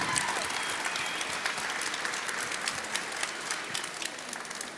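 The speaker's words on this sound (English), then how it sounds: "give them an applause" Applause from a conference audience at a resuscitation council event, a steady, dense clapping from many hands filling the room, sustained at even loudness for several seconds.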